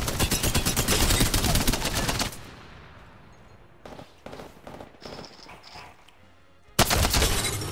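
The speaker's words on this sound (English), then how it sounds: "I am taking fire, friends." Rapid automatic gunfire in the Apex Legends video game, a long loud close burst, then quieter distant shots, and another heavy burst at the end.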